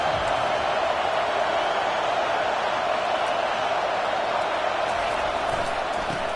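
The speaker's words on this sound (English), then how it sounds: "This crowd coming to life here, trying to help the defense get a stop" Home football crowd at an NCAA playoff game, a continuous loud roar of cheering voices held at an even level throughout.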